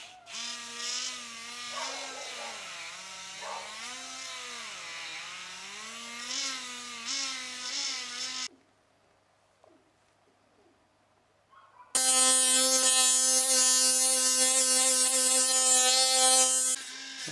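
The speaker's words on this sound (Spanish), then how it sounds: "ahora lo voy a pulir por dentro con un poco de pasta de pulir y esta maravillosa herramienta que se llama micromotor" A micromotor rotary tool polishes the inside of a mammoth ivory ring with polishing paste, a loud, steady high-pitched whine with strong harmonic overtones that starts abruptly after warbling, pitch-varying motor sounds and a quiet gap.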